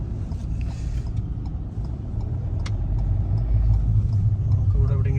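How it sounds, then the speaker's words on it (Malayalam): A car engine rumbles low and steady at close range while the vehicle is pulled over to park near a busy roadside, growing slightly louder toward the end, with voices in the background. "വണ്ടി ഒതുക്കാം"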